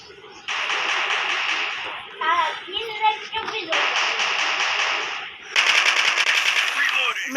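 Rapid bursts of machine gun fire from a shooting video game, loud and close, coming in several sustained volleys separated by short gaps with other in-game effects between them.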